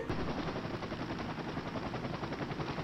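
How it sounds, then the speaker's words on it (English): In the video game Call of Duty: Modern Warfare Remastered, rapid bursts of automatic gunfire rattle over a dense, churning helicopter rotor roar, loud and continuous, with no voices. "Alright, we got a helicopter coming in."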